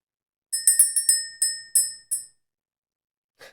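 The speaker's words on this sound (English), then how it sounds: "Let's go ahead and ring the bell." A small bright bell is struck seven times in a quick, uneven run, each clear ring decaying briefly, followed by a short pause and one faint final tap.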